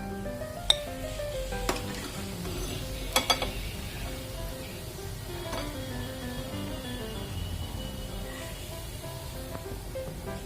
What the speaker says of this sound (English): That's why you need to be very careful while frying.